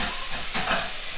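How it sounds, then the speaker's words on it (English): Food is stirred in a bowl during home cooking, giving a soft, steady scraping and sizzling hiss for a brief moment, close and fairly quiet, with no talking. "Put the bowl down, and then give it a stir"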